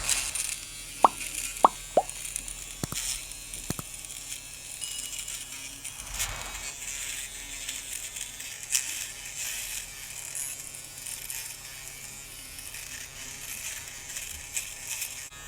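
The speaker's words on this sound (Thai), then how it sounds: "อ่ะเดี๋ยวมาดูที่การใช้งานนี้เครื่องเริ่มทำงานแล้วนะครับผม เรา ก็มาโกนหนวดเราได้เลยนะครับ" Portable rechargeable electric razor shaped like a phone, buzzing steadily while shaving stubble, a thin continuous motor whine after a few sharp clicks at the start, close and without speech.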